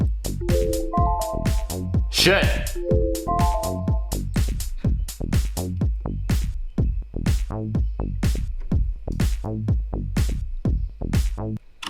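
An EDM outro built in Studio One Pro 7 thumps with steady punchy kicks and deep bass, a short melodic synth phrase and a brief noisy sweep near the start, then kicks and bass continue alone; a single word is spoken once.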